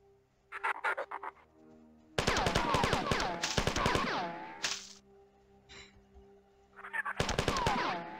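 Retro-styled gunfire from the classic shooter Marathon: sharp, rapid bursts of close shots in clusters, with pauses between volleys and a final burst near the end, over a quiet game background.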